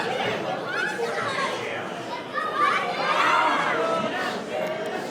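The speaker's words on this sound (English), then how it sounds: "You can hear some of the crowd trying to get behind Austin" Wrestling crowd at a CSW Uprise match, a steady wash of mixed chatter and scattered shouts and cheers from the arena, loudest near the middle, with a commentator talking over it.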